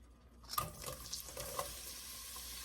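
Onions sizzle steadily in hot oil, a bright crackling hiss with a few louder pops and stirring clatters near the start.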